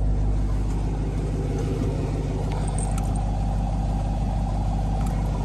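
A supercharged Jeep Trackhawk's engine rumbles at a steady, loud, constant drone with low mechanical throb, heard from inside the vehicle with no speech.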